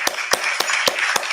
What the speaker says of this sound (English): We're going to go ahead and give you a hand clap for that.